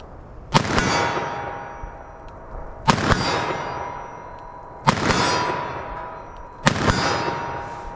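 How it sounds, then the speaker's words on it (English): .44 Magnum gunshots fired at a target: four sharp, loud cracks come about two seconds apart, and each one rings out with a metallic clang before fading. "So that first shot, it shot way over the target"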